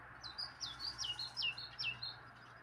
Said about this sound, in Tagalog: Ang daming ibon dun.